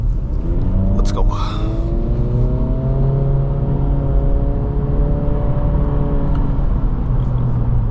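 Turbocharged 2023 Acura Integra A-Spec accelerating in sport mode on a winding road: a steady, loud engine drone and road rumble, with harmonics climbing in pitch as revs build and a brief whine early on.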